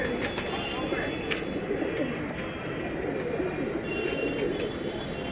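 Pigeons coo in a Mumbai breeding loft, soft low calls repeating under a steady background hum, with a few sharp clicks and a voice nearby.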